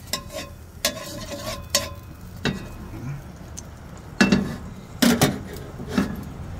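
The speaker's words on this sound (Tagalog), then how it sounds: "samahan niyo ako guys at mag-gisa-gisa muna tayo" A heated pan sautés ingredients for adobo. Scattered sharp clinks and scrapes of a utensil against the pan stand out over a low, faint sizzle, with louder stirring knocks toward the end.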